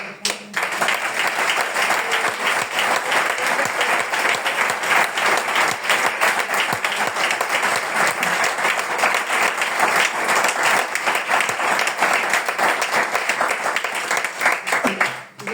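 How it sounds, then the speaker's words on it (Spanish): A television studio audience applauds loudly for a voice-and-guitar performance, with many hands clapping in a sustained, energetic roar for about fifteen seconds before fading at the end. "Un aplauso muy fuerte."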